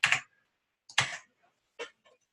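Three short bursts of clicky keystrokes on a computer keyboard while writing code, spaced about a second apart, fairly close and with no voices.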